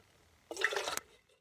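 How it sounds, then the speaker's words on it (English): Creek water pours into a can for about half a second, a short burst of splashing and gurgling fill sound that starts suddenly and cuts off, close to the listener amid quiet outdoor surroundings. "Filling up my can here."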